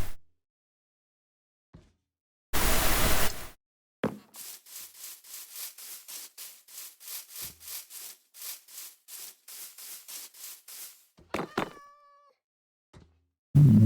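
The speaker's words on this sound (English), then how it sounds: "The kitty cat." A Minecraft cat lets out a short meow near the end, after a loud broadband burst and a long run of steady rhythmic scraping strokes.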